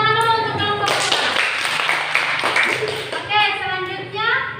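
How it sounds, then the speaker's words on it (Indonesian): Students in an Indonesian classroom clap for a presenting group, a burst of hand clapping lasting a couple of seconds between children's and adults' voices talking before and after. "tepuk tangan dulu untuk kelompok 2"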